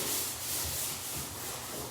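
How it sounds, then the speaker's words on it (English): Scrubbing inside a bathtub with a worn finish gives a faint, continuous rough rubbing and swishing, close by, with no voices. "So, scrubbing the inside of the tub."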